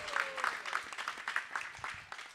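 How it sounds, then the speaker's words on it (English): Light applause from a small audience at a devotional kirtan session, with separate claps audible in a loose, uneven patter at moderate distance. "So big round of applause for Anandaram Prabhu."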